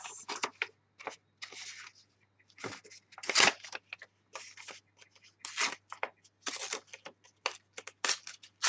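Scissors snipping through paper while making folios and envelopes: a close, irregular series of short crisp cuts and rustles separated by brief pauses, with no talking.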